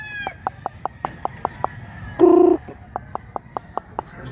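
Rooster at a gamefowl yard in Mantalungon, Cebu, giving a steady run of sharp, evenly spaced clucks with one loud crow in the middle, close by over faint background noise.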